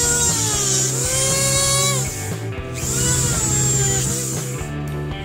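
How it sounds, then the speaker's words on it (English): A Dremel rotary tool drills out the plastic center of a Rubik's Cube, a high whining motor buzz in two long passes with a short break between, loud and close. "I'm actually going to be using my Dremel tool and this will do the same job."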